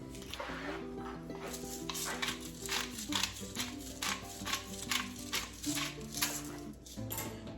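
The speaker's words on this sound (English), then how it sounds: "Give that a little stir, or a little toss, I should say" Coq au vin is stirred and tossed in a covered pot, a continuous close scraping and rustling with a soft bubbling simmer, steady and moderately loud throughout.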